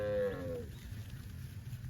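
A single short moo from a cow grazing in rice fields, fading quickly into a quiet, breezy outdoor background.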